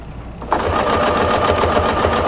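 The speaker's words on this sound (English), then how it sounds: "I was concentrating there on my sewing" A sewing machine stitches a quilt block in quilt-as-you-go style, starting abruptly after a moment of quiet and then running steadily with a fast, even mechanical whir, close and fairly loud.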